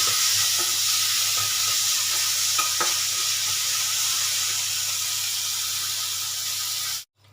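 Onion pieces stirred in a kadai as they lightly fry, a steady close sizzle and hiss running throughout with occasional scraping touches of the spoon, cutting off abruptly near the end.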